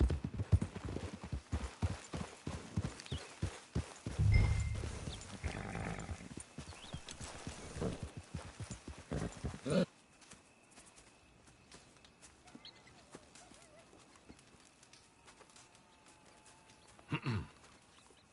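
Horse hooves clip-clop at a steady walking pace in Red Dead Redemption 2 Online, loud and close at first, then the scene goes quiet with faint ambience and a single soft thump.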